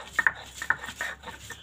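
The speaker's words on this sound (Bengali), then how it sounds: "এটা কিন্তু বাটার জন্য কিন্তু শিলনোড়ায় ব্যবহার করে লাগছে" Soaked lentils are ground by hand on a flat grinding stone with a stone roller (shil-nora), giving quiet scraping and rubbing strokes, a few sharper grinding pulses in a loose rhythm, close and soft.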